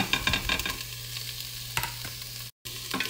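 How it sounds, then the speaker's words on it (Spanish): Chopped onion sizzles in a hot pan while a spoon scrapes and stirs it, with clattering strokes at the start, a steady frying hiss, then a few more stirring scrapes near the end. "Revuelve la cebolla."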